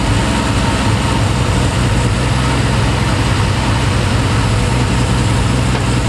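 British sports car engine with Zenith Stromberg or SU carburettors idling a little fast at about 1300 RPM, a loud, steady low rumble that holds constant and close with no pauses.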